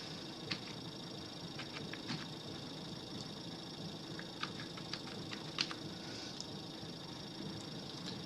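Soft, irregular keystrokes from a computer keyboard as a PAN card number is typed in, faint clicks scattered over a steady low hum, with no one talking.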